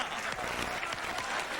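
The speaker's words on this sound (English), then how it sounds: "Big round of applause for Bobby Brown." Studio audience applause for Bobby Brown on The Arsenio Hall Show, a dense, steady wash of clapping from a large crowd, loud and continuous with no individual claps standing out.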